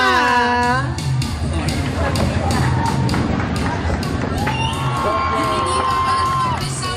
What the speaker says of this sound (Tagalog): Kaya ating palakpakan.